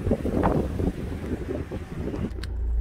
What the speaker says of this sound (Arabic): كاين واحد الريح المشاهدين الكرام مجهد بزاف والبحر هايج